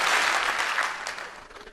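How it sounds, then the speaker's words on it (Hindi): An audience at a seminar on MLM claps together in response to a greeting, a dense burst of clapping that starts loud and fades over about two seconds. "जब भी मैं हेलो बोलूंगा आप एक बार ताली बजाएंगे"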